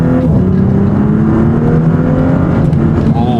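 A tuned Audi S4 B9 on a stage 1 E85 map rips through a loud, close rev, the engine note holding strong and steady with a rising harmonic whine for a few seconds, with no speech over it.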